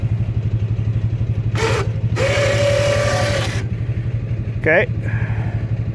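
An ATV engine idles with a snow plow attached, a loud, rhythmic low chugging that runs throughout while a few people talk briefly over it.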